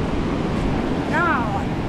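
Ocean waves breaking at Del Mar dog beach in California make a steady, loud broadband surf roar with wind buffeting the microphone, and a brief tonal voice-like sound rises near the end.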